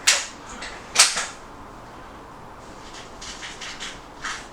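A hobby air rifle pellet fired during an informal velocity test: two sharp, clicky shots near the start about a second apart, followed by quieter faint ticks.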